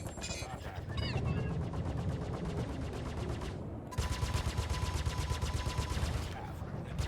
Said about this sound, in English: Oh, that missile spam, man.